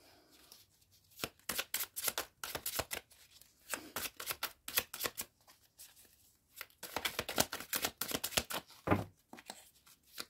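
Tarot cards are shuffled by hand close up, giving quick bursts of crisp riffling and flicking in uneven clusters, with short quiet gaps between them.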